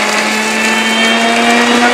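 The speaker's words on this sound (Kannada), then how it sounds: "ಇಂಗ್ರೀಡಿಯೆಂಟ್ಸ್ ಎಲ್ಲ ನಾನು ಮಿಕ್ಸಿಗೆ ಹಾಕ್ತಿದ್ದೀನಿ" Kitchen mixer grinder running loud and close as it grinds curry leaf chitranna spice ingredients, a steady high motor whine with a constant hum that holds unbroken for the whole moment.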